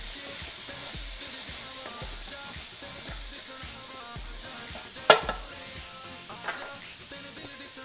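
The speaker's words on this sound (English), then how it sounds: "Let's give this a stir as well." Mushrooms such as cremini or oyster sizzle in a pan while a utensil stirs them, a steady frying hiss broken by soft rhythmic scrapes and one sharp clink near the middle, heard close with no talking.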